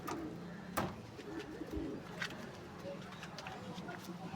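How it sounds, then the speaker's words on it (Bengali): Pigeons, including pigeons flown in matches and kept as pairs, coo softly in low rolling phrases, with a few sharp clicks and clatters and faint background noise around them. "খুব ছটফটে পায়রা"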